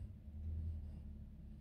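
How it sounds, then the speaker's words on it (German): A car passes too close on a road in the Harz region: a faint, low rumble that swells slightly and then settles, with no other sounds over it. "jetzt kommt ein Auto zu nahe"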